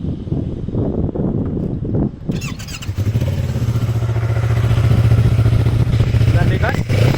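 A Yamaha R3 motorcycle is started after a short stretch of quieter sound and then settles into a loud, steady idle close by, with some wind buffeting on the microphone.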